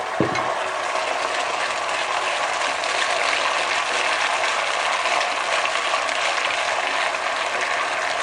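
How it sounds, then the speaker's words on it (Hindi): A spoon stirs a soaked semolina and milk mixture in a pan for makhandi halwa, giving a steady, dense scraping and sizzling texture that continues unbroken without any talk. "अच्छी तरह इसको चम्मच चलाते रहें।"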